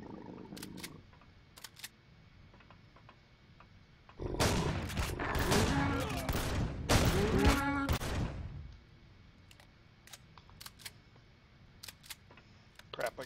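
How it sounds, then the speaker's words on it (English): A burst of rapid gunfire in the sci-fi survival game Empyrion Galactic Survival, aimed at an enemy spawner, lasting about four seconds amid quieter ambient game sounds and sparse clicks. "I'll let you shoot the spawner."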